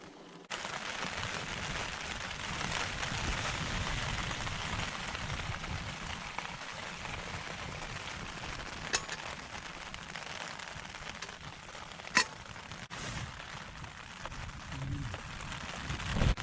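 Rain patters steadily on a tent near Lochnagar in Scotland, a dense, continuous drumming close overhead, with occasional louder drops standing out.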